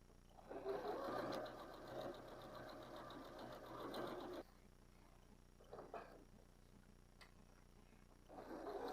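Sewing machine stitching a seam around a fabric crayon caddy, a close steady whirring run that stops midway, followed by quiet handling clicks and a brief restart at the end.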